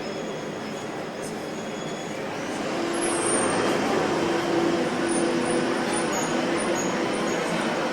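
A subway train rumbles through an underground station in a steady loud roar that swells partway through, with faint wheel squeal on top.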